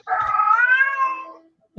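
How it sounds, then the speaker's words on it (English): A female cat in heat yowls once in a long, drawn-out wavering cry lasting over a second. It is loud and close, with a brief bump of noise just after. "Where is that cat coming from?"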